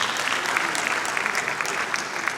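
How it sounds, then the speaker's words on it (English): Conference audience at a Nigerian aviation event gives a round of applause for Ogun State, a steady, full wash of many hands clapping throughout. "let's give Ogun State also a big round of applause"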